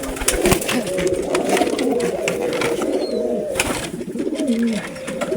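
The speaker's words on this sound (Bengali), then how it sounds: "এইখানে এক জোড়া ক্রস ব্রিডের কবুতর আছে" Soft, low cooing from a pair of cross-bred pigeons repeats steadily nearby, with rustling and fluttering noises mixed in.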